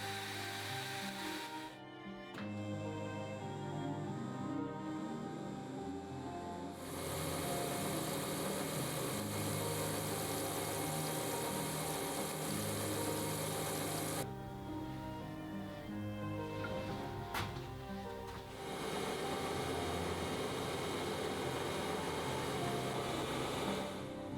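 A worn powered feed unit on an 80-year-old Wadkin EP spindle moulder with a bad bearing race runs steadily, a droning, slightly rough mechanical whine that shifts tone as speeds change, with a brief break partway through.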